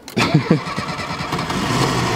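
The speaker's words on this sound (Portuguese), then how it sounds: "olha o ronco, motor V8 turbo" An old car with a turbocharged V8 engine cranks with a few sharp bursts, then catches and settles into a loud, rumbling roar.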